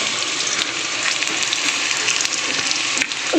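Potatoes fry lightly in a pan with spices, giving a steady, broad sizzle close up that runs throughout the clip.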